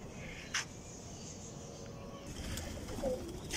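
Pigeons coo softly nearby as grain is scattered for them, low murmuring calls over a quiet outdoor background, with a few brief rustles and wing or feed sounds.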